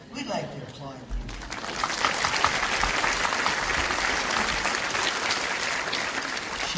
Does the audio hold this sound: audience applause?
yes